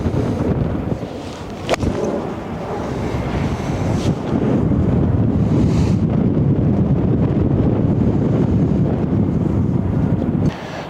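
Strong wind buffets the microphone on an open golf course, a steady loud rumbling roar with gusts that swell and ease throughout.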